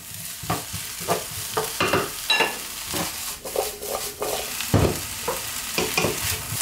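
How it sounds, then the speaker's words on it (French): Flax seeds and vegetables are stirred in a hot pan, a steady sizzle with repeated scraping strokes of a utensil throughout, close and fairly loud with no talking. "Là, je mélange. On va essayer de les faire éclater donc avec les légumes."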